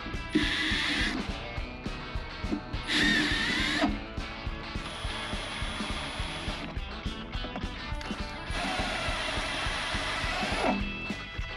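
A power tool deburrs 4130 chromoly seat brace plates, with a high whirring grind that comes in repeated bursts and ratcheting mechanical clatter in between, heard up close.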